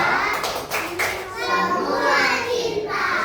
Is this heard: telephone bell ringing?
no